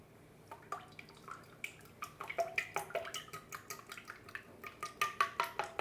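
A quart of heavy whipping cream pours into a bowl, making a soft liquid splashing and trickling with irregular drip-like patters that grow busier toward the end, close and fairly quiet, with no talking.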